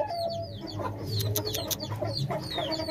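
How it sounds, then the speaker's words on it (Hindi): A hen clucks repeatedly in low, throaty bursts, with other birds chirping and calling in the background. "इस मुर्गी ने कुचल के मार दिया इसको"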